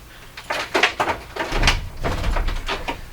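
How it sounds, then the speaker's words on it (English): A door is closed nearby with several soft knocks and a rattling thud in a quiet room, the bumps spread over a few seconds; no speech. "I gotta close my door here."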